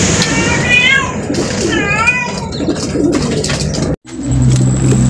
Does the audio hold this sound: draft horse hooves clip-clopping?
no